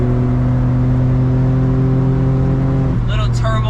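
Steady drone of a Suzuki Jimny JA11's small turbocharged engine cruising on a highway, a constant hum with a shift in pitch near the end, heard from inside the cabin with no voices.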